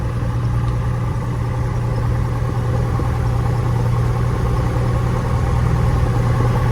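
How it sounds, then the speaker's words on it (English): The engine of a Cessna 172F Skyhawk aircraft runs smoothly, a steady loud drone with a constant low hum and no change in pitch throughout. "That engine runs awesome, smooth."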